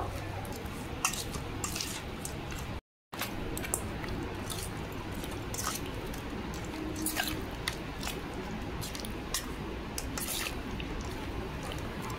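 Hilsa fish is mixed by hand with spices, mustard paste and mustard oil, making close, soft wet squishes and sticky smacks in an irregular rhythm, with a brief silent gap partway through.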